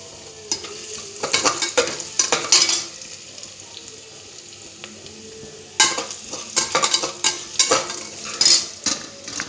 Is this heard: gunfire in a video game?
no